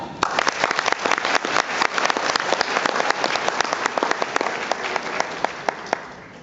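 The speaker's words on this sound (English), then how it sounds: "Let's give them a round of applause." A small crowd at a conference awards ceremony in Auckland claps steadily for several seconds, with sharp individual claps standing out, then the applause gradually thins.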